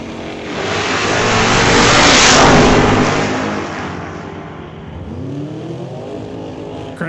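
A 1978 Camaro Z28 and a 1979 Malibu wagon launch side by side at a drag strip, a loud engine roar building to a peak and then fading as the cars pull away.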